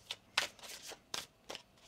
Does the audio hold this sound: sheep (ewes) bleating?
no